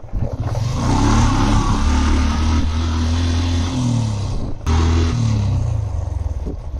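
A motorbike rides along a road on the way to Saint Martin's Island in Bangladesh, its engine droning loud and steady with slight pitch shifts as the speed changes.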